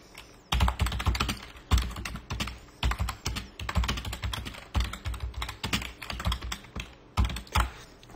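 Steady typing on a computer keyboard, heard close with dense, rapid key clatter in bursts separated by brief pauses, with no voices.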